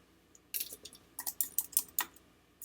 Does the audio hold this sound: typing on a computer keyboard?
yes